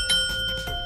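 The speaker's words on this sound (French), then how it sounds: "Une sonnette! Écoutez!" A bicycle bell gives a single bright ring that starts sharply and rings on briefly, loud and close, with no voices over it.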